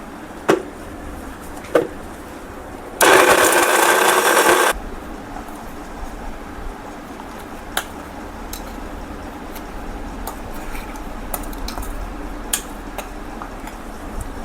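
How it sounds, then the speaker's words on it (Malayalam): A small mixer grinder jar grinding jaggery gives one loud, harsh whir lasting under two seconds, then stops, leaving scattered light clicks and taps. "കുറച്ച് പൊടിക്കാം, കാരണം ചെറിയ മിക്സി ജാറല്ലേ."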